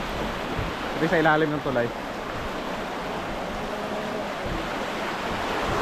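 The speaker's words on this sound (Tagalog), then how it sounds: "So ito yung ano, yung ilog." River water flowing under a bridge on a rainy trip, a steady broad rushing wash with nearby talk over it at first.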